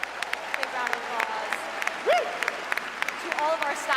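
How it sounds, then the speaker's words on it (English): An audience clapping at an evening presentation event, a loose scatter of handclaps popping over a room murmur while a voice speaks briefly in the middle. "Big round of applause."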